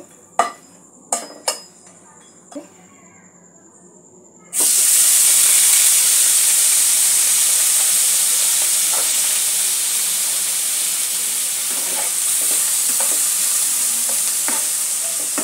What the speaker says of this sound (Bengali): 3-4টে লবঙ্গ একটু ফাটিয়ে নিয়েছি, এটা ফোড়ন হিসাবে দিয়ে দেব। ফোড়নটা একটু নাড়াচাড়া করে নেব।